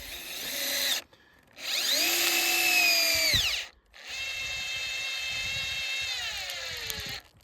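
A power drill drives SPAX PowerLag screws into wooden joists for a tent platform: three loud whirring bursts separated by short pauses, the motor pitch sagging as each screw bites and seats, with no talk.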